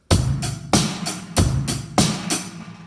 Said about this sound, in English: So, that is how to do a basic rock beat.